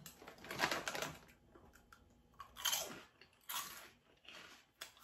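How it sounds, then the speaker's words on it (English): Crunchy apple cinnamon pie flavored Cheerio chips being bitten and chewed close up, several loud crunching bursts separated by quieter chewing, no talk. "I'm gonna try these Cheerio chips. And these are apple cinnamon pie flavored."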